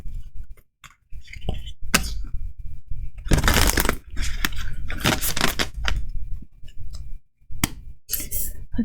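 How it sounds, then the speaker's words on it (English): Tarot cards are shuffled by hand in short riffling bursts with papery flicks and clicks. Quiet gaps separate the bursts, and nobody speaks. "I'm going to do one more shuffle for you"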